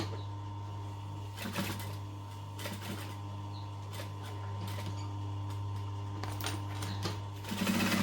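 A sewing machine stitches a double zipper pocket on a mini wallet in short bursts of rapid close stitching separated by brief pauses for pivoting, over a low steady hum.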